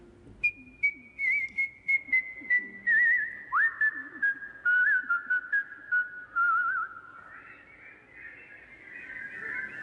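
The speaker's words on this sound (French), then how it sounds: "si je vous siffle" A single person whistles a lively tune alone, clear and close, with quick ornamented notes gliding between pitches.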